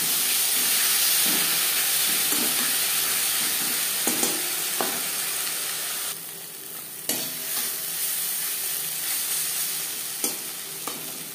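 Spice paste with chilli paste fries in oil for a potato fish curry, a continuous close sizzle and steamy hiss with occasional clinks and scrapes of stirring that briefly dip and return.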